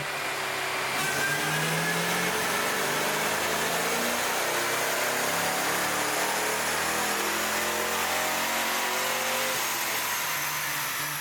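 A Fox Body Mustang engine fitted with SVE underdrive pulleys makes a full dyno pull, a loud, steady roar climbing continuously in pitch through the revs for about ten seconds before backing off at the end.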